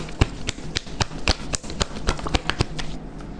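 Tarot cards handled and drawn from the bottom of the deck make a quick series of crisp, close taps and flicks, steady throughout with a faint low hum beneath.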